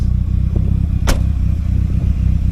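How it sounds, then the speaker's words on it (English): A Cosworth car with a freshly rebuilt engine, being run in, idles with a loud, steady low rumble; one sharp click cuts through midway. "I'm currently running the car in on a freshly rebuilt engine."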